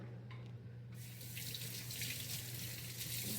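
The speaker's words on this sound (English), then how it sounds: "Wash the hands again." A kitchen tap runs for hand washing while dirty rice with pork is being made. After a second of low hum, the water hisses on steadily and close, with no talking over it.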